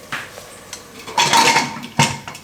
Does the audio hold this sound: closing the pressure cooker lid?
yes